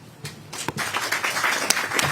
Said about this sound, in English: Let's give another round of applause to our great governor here